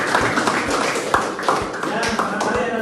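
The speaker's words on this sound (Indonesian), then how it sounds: "Aplaus buat Najwa" A small room of people gives Najwa a brief, light round of claps and taps in an Indonesian university teacher-training class, with several scattered hits over steady chatter and speech.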